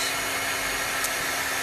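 A heat tool blows steadily while warming chalk paste on a pink flip-flops chalkboard sign, a continuous close, even airy whoosh with no talking.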